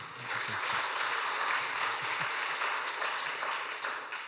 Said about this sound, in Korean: 박수를 치려면 확실하게 한번 쳐보세요